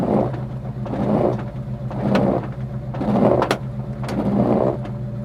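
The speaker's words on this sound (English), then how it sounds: "We got windshield wipers up on the window." Windshield wipers on a 1967 Chevrolet Chevelle SS with a 396 big-block V8 sweep back and forth about five times at a steady pace, with a soft swish on each pass over the low, even idle of the engine.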